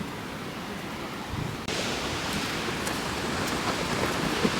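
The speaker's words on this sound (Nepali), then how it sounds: "झर्ना त यता पो छ" Waterfall in the Himachal hills, a constant broadband rush of falling water heard from nearby, growing slightly louder partway through, with no voices.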